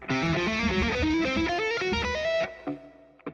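A distorted electric guitar plays a quick run of angular, dissonant atonal notes, loud and alone, ending with a few sparse plucks.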